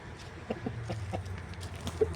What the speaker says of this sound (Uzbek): Mana bu yerda makyollarimiz yuribdi.